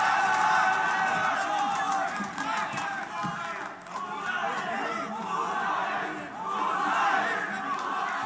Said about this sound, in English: The crowd is getting more and more into it.